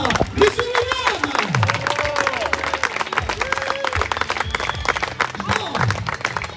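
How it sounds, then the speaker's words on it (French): A crowd at a monster truck festival finale claps and cheers loudly and continuously, with shouts and whistles over dense, rapid applause. Voices rise throughout in a busy, lively outdoor atmosphere. "je pense qu'on peut lui réserver un tonnerre d'applaudissements"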